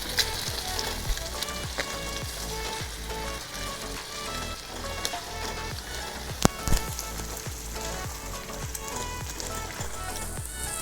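A thick Ukkarai sweet mixture frying in a pan, a dense continuous sizzle with rhythmic stirring strokes scraping through it, close and steady.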